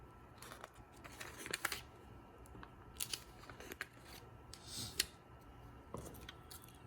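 Scissors snipping paper for a bullet journal page, a series of short, crisp cuts and rustles at close range, quiet, with gaps between the snips.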